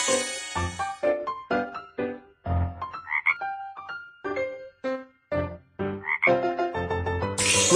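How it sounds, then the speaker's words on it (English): A frog croaks over and over in a lively, rhythmic run of close, clear calls, set in a children's cartoon learning game. "Frog."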